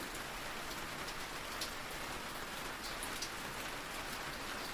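Soft, steady rain falls continuously, a dense even patter with no break in it, heard alone and fairly faint.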